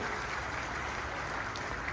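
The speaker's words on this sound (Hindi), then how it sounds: "और मैं चाहूंगा एक बार जोरदार ताली से इनका धन्यवाद करिए।" Audience applause at a political speech in Anagpur village, Haryana: dense, continuous clapping at an even level, heard alone for the whole stretch.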